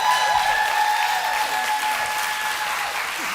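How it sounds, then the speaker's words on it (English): A live awards-show audience breaks into sustained applause, dense steady clapping filling the hall at full volume for several seconds. "I think that deserves a round of applause, ladies and gentlemen."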